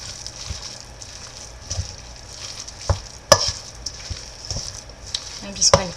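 A spoon stirs Vegeta seasoning into Hungarian stuffing in a pan, producing a soft low sizzle with occasional scraping clicks and taps against the pan, close and fairly quiet.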